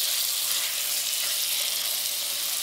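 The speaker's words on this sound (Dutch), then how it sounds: "En dan kunnen nu de tomaten erbij. Je hoort het meteen sissen." Tomatoes sizzle in a frying pan, a steady bright hiss of frying that runs close and even throughout, with no voices.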